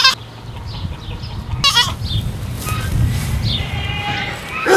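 A goat bleats at a farm animal sanctuary, a close, quavering cry heard a few times among other farm animals and chickens, and a voice speaks briefly in the background.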